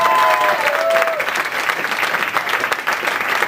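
Studio audience at a televised quiz show claps loudly for both competing teams, a dense sustained burst with a faint whistle-like tone near the start.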